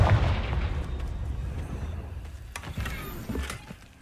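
Confringo blasting curse in Hogwarts Legacy, a heavy low explosion at the start that rumbles and decays, followed by scattered crackling pops and a smaller burst near the end.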